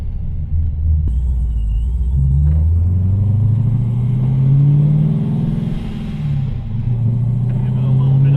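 Road test of an 800hp Datsun fitted with a Ford 8.8 rear axle: a deep engine rumble builds and falls as the car accelerates, heard from inside the cabin, loud and steady throughout.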